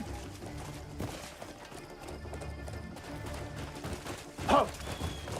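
Hooves clip-clop in a steady galloping rhythm as a horse runs in the video game Crimson Desert, close and continuous over ambient game sound, with a brief whinny near the end.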